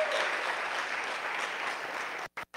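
A community audience at a Black History Month gathering breaks into sustained applause for an organizer, a dense steady wash of many hands that cuts off abruptly near the end.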